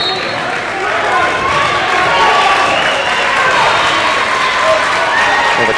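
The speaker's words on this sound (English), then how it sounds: "And the crowd is very loud at this point." A loud crowd cheers and roars at a 2007 high school basketball playoff game in a gym, a dense sustained wash of voices and clapping that swells and holds throughout, with sneaker squeaks and commentary-like talk mixed in.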